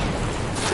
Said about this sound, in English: Artillery, or is that a grenade?